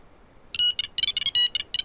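A phone ringtone plays a quick series of bright electronic chirping bursts, loud and close, about seven pulses in under two seconds with no talking over it.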